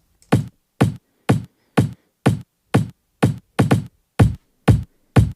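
Chopped drum break loop with the low end cut and an auto filter, playing eleven evenly spaced punchy hits, one doubled near the middle, loud and alone with no talking.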